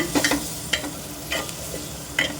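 Onion fries in a pan under a constant low sizzle, with a spatula scraping and tapping in several quick strokes spread through the moment, close by and without any talking.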